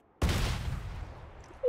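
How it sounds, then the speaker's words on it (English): A mortar shell explodes in a video game, a sudden loud boom with a long rumbling decay, followed by the start of another blast at the end. "And I fucking love the mortar."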